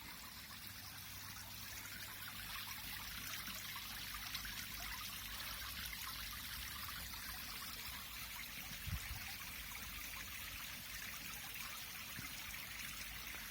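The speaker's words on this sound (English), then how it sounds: "Another water feature over here." A garden water feature at a mansion gives off a steady, even trickle and splash of running water that carries on unbroken throughout, moderately close and alone with no talk.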